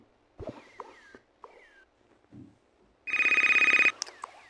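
A mobile phone ringtone plays for about a second as a rapid trilling electronic ring, loud and close. Quieter household clatter and rustling come before it, and a few sharp chirps follow.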